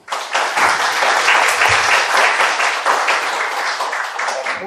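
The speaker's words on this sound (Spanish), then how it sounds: "Recibamos con un fuerte aplauso al profesor Daniel Thatcher Contreras" Strong, sustained applause from an audience welcoming a professor to the stage at a reflection panel on the new government, dense and steady clapping for nearly five seconds.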